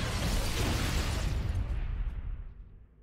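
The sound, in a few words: needler explosion in video game Halo: Combat Evolved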